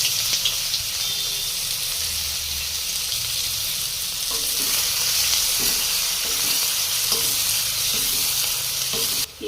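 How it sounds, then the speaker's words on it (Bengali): Chopped onions fry in hot oil with a steady, close sizzle and hiss, broken by occasional stirring scrapes and clinks from the pan, all without talk, ahead of pomfret fish cooked in a spicy oil curry. "এবারে দিয়ে দেব কুচানো পেঁয়াজ,"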